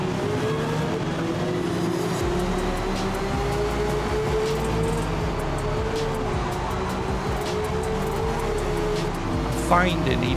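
Racing car engines in a sim racing game: a steady, loud, droning engine note with shifting pitch runs the whole time, with other cars' engines blended around it and a brief sharper rise near the end.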